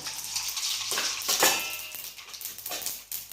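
Mustard seeds crackle and sizzle in hot oil in a pan, a continuous hiss with scattered sharp pops and spits close by, no talking.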